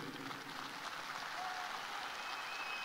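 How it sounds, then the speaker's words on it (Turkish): A crowd at a political rally in Konya claps, a dense sustained patter of many hands that swells slightly and carries on without a break, with no voices over it. "Siz beni alkışlıyorsunuz."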